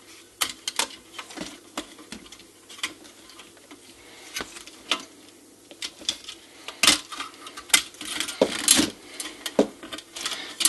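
Small screws from a NuTone Model 2057/2058 intercom being taken apart drop into a cup, giving scattered sharp metallic ticks and clinks at irregular intervals, growing busier toward the end, with no talk.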